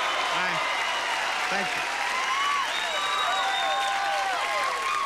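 A studio audience at a 1991 Price Is Right taping welcomes the game show host with loud, sustained applause and cheering and some whistles, while he briefly speaks over it.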